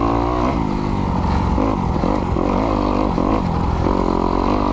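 A Kawasaki KX250X dirt bike engine runs hard while being ridden through snow, with a loud, close, continuous buzzing drone that rises and falls as the throttle opens and closes.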